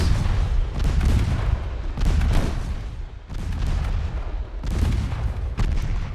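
Torpedoes launching from warships in the naval strategy game Ultimate Admiral Dreadnoughts, a series of heavy booming bursts with rumbling low-end tails, several in a row, loud and close.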